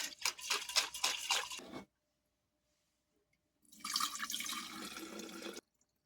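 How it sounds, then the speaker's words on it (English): Water pours and splashes into a jar for brewing kombucha in a close, bright rush, stops for a couple of seconds, then pours again in a second steady stream. "So just put a bit of water in here."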